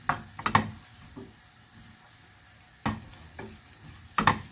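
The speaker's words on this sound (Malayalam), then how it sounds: "ഇതെല്ലാം ഇട്ട് നല്ലപോലെ ഒന്ന് ഇളക്കി യോജിപ്പിച്ചതിന് ശേഷം അതിലേക്ക് നമുക്ക് സേമിയ ഇടാം" Semiya is stirred into a coconut mixture in a pan, with a few soft scraping stir strokes over a faint sizzle and quiet pauses between the strokes.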